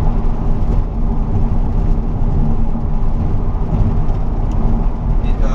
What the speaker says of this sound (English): estate car have some noises when driving on such a bumpy road like this